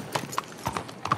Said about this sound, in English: I'm just gonna get on my horse